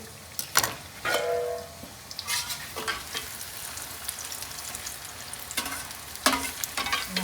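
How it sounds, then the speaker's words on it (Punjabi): Cauliflower and bread pakoras frying in hot oil, a steady low sizzle broken by several sharp crackling bursts and stirring clatters, close up with no talk. "ਹੁਣ ਐ ਚੰਗੀ ਤਰ੍ਹਾਂ ਨਾ ਪੂਰੇ ਰੜ ਗਏ ਨੇ ਪਕੌੜੇ ਆਪਣੇ"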